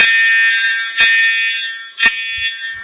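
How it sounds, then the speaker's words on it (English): A school fire alarm rings loudly and steadily for about three seconds as a continuous electronic tone, with brief louder pulses roughly once per second and no talking. "Okay, Dodger, let's you and me pull the fire alarm"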